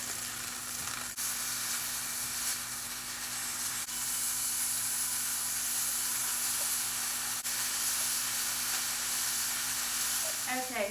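Pieces of beef brown in a hot pan, producing a steady close hissing sizzle that runs throughout with a faint low hum underneath and a brief clatter near the end.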